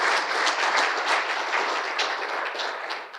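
A conference audience claps for a speaker after a talk on AGV and AMR battery safety, a full, even round of applause that swells and dips slightly, fairly close and loud, with no talking over it.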